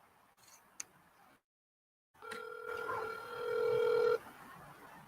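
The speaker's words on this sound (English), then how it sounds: "Make this quick phone call again while I'm on live." A phone call is being placed: a few soft clicks, a brief silence, then a steady electronic telephone tone that swells louder and holds for about two seconds before cutting off abruptly.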